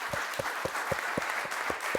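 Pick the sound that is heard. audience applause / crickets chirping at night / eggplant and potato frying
audience applause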